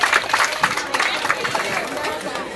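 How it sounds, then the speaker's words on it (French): An audience at an eloquence contest final in Mali applauds, with scattered claps and crowd murmur mixed under a speaking voice. "Alors applaudissez pour les Wolof,"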